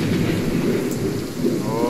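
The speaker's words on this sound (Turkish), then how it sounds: "Fırtına kopuyor, fırtına." A thunderstorm in the medieval survival game Reign of Kings brings low, continuous rolling thunder over steady rain hiss, loud and close throughout.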